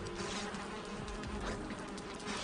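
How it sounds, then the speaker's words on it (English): A dense, steady swarm of bees drones in a video game, a continuous close buzzing hum that holds at an even level with no talk over it. "So I can hear the bees."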